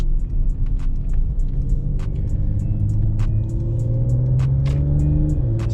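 Car engine revving through the gears as paddle shifters upshift around 3,500 to 4,000 RPM, a loud continuous rumbling drone with rising pitch and small clicks over it.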